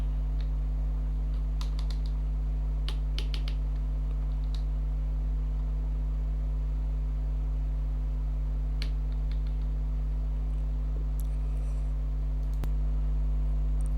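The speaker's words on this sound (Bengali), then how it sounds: "আমি যে ওয়েবসাইটটা লিখছি সেটা সার্চ করো।" Steady keyboard typing of a website address into a search, soft scattered key clicks over a constant low electrical hum, with no talking.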